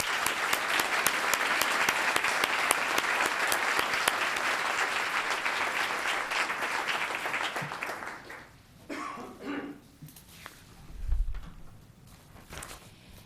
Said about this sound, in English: A round of applause for Isaac.